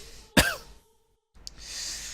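A single sharp, harsh cough from smoke close by, followed by silence and then a faint hiss of breath or background air.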